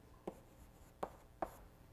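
Chalk taps and scrapes on a lecture-hall blackboard as an equation is written, three short, distinct strokes spaced unevenly, faint and close with no talk.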